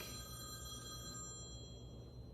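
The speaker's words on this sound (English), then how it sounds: "that would be my phone" A landline-style telephone bell rings in a country home, a continuous bright electronic trill with steady tones that holds at an even level throughout, with no voices over it.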